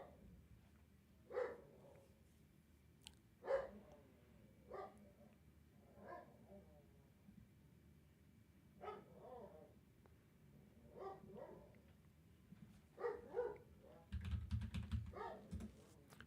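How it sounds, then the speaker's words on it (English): A dog barking indoors in a series of short, separate barks spread over about sixteen seconds, with computer-keyboard typing clicks mixed in and a louder burst near the end. "Sorry to hear my dog going out there"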